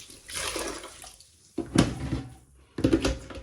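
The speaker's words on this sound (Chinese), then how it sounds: "这个布子要给它洗一下，也是温水洗啊" Cloth for sprouting bean sprouts being washed in warm water, with splashing and sloshing in bursts, close and fairly loud.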